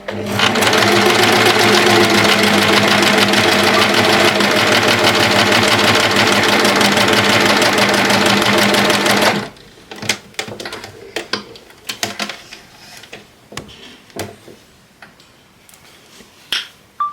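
An Empisal sewing machine runs a straight stitch on tension 3, a loud, fast, steady mechanical whirring for about nine seconds, then stops and gives way to scattered clicks and handling knocks.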